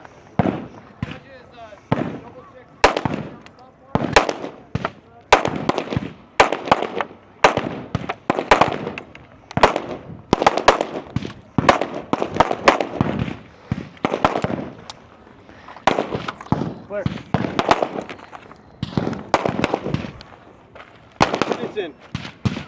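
Rapid pistol and rifle gunfire on a shooting competition stage, with pistol rounds fired from atop a barricade; loud sharp shots come in quick bursts and strings with short pauses, under commentary talk.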